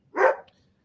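A single sharp bark from a dog on an ocean beach, close and loud, then silence.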